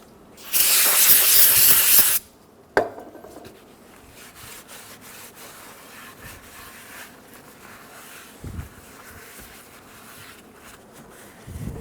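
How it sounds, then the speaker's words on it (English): Parts cleaner sprays onto a 2000-2007 Ford Focus transmission pan in one loud hissing burst of about two seconds, followed by quieter rubbing and handling noises. "we're going to take a rag and some parts cleaner, and we're going to clean around the outside and inside of the pan"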